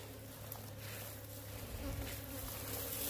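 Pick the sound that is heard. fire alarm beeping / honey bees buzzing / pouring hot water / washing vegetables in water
honey bees buzzing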